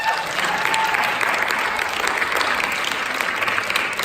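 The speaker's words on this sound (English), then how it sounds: "I want everybody to give a loud round of applause to Mr." Audience applause for a guest at a school debate event, steady broad clapping from many hands filling the room throughout without pause.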